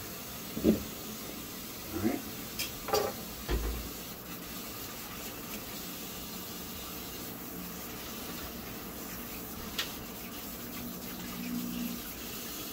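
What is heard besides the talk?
water running to fill a kitchen sink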